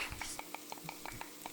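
Garlic sautéing in a pan with a steady, rhythmic series of stirring scrapes, about every sixth of a second, over a soft background sizzle, heard faint and close.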